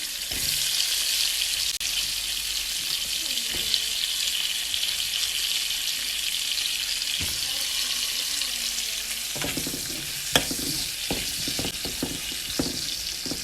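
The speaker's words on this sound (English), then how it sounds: "saute those for 3 to 4 minutes. Just until the potatoes and onions get a little color on them" Potatoes and onions sauté in a pan with no added oil, only the fat left from cooking kofta, giving a continuous hissing sizzle with occasional clinks and scrapes of stirring and no talking.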